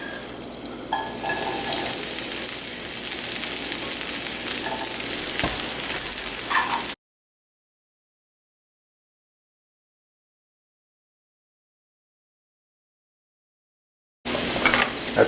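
Garlic frying in olive oil in a pan, a loud steady sizzle near the mic that cuts out for several seconds of silence, then returns briefly.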